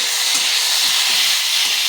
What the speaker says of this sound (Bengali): এবার টমেটো দিয়ে দিলাম